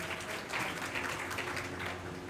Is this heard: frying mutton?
no